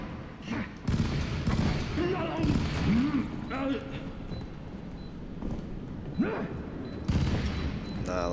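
Bombs and heavy gunfire boom through a first-person shooter battle in FEAR 3, with dense, continuous blasts and shots filling the scene while someone talks over the chaos.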